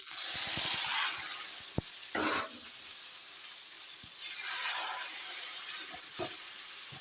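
Mung dal sizzles in hot oil in a pan for a taro leaf dish, a soft continuous frying hiss with a few stirring scrapes and clicks, quiet and close.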